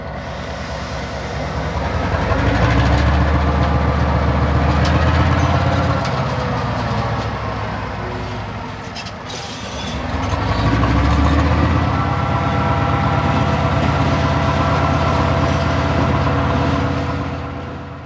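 A diesel locomotive rumbles past near a steel mill with a loud, steady low engine drone and rolling clatter of wheels on rail, swelling twice as it moves through, with no voices heard.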